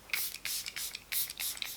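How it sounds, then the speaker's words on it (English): A bi-phase fine mist spray bottle gives a rapid series of short, crisp hissing spritzes, about six pumps in quick rhythm, close and clear with no talking. "you have to give it a bit of a shake, tip it up, and there's the little spray"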